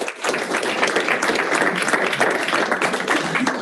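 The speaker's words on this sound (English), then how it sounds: "Give them a round of applause." A room of colleagues at a team meeting claps together, a dense, even patter of applause that holds steady throughout.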